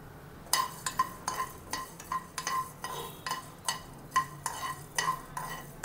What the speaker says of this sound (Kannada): ನಂತರ ಧನಿಯಾ ಹಾಕ್ಕೋಬೇಕು, ಮೆಂತ್ಯ ಮತ್ತು ಮೆಣಸು, ಹುಣಸೆ ಹುಳಿ ಇಷ್ಟು ಕೂಡ ಹಾಕ್ಕೊಂಡು ಹುರ್ಕೊಬೇಕು.